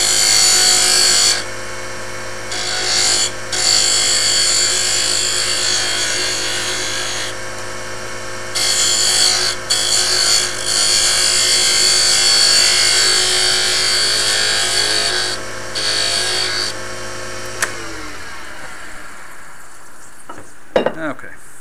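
Lathe turning of a small bocote wood bead, a steady whirring motor with broadband scraping as the tool cuts, pausing briefly a few times before winding down near the end.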